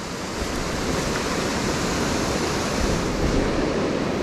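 A waterfall pours onto a Lake Superior shoreline, producing a loud, constant roaring rush of falling water heard up close with no breaks and no talking.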